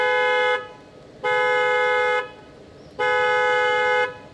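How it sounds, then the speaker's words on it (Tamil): An aftermarket horn fitted to a Maruti S-Presso sounds two long, steady honks, each close, loud and clear, with a short pause of quiet between them. "ஸோ இப்போ நம்ம வேறு ஒரு ஹார்ன் இன்ஸ்டால் பண்ணியிருக்கோம்."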